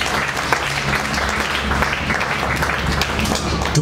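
A church congregation at a Swahili worship service breaks into sustained applause, with steady dense clapping filling the space at an even loudness throughout and little else audible.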